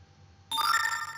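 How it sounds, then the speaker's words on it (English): A smartphone push notification from a React Native app chimes once, a sudden bright electronic alert tone with ringing overtones that decays briefly against quiet room hum. "This is the push notification from our apps."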